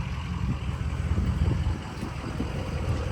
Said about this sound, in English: It's got this nice exhaust here. It has some kind of aftermarket muffler.